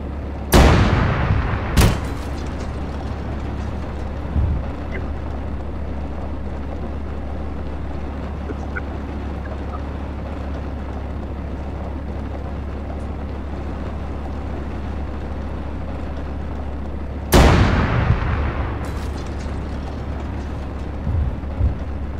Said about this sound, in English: Ooh, I can hear all sorts of booms.